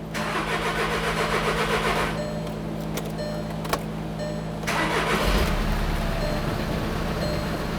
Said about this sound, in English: Now you're going to start the vehicle.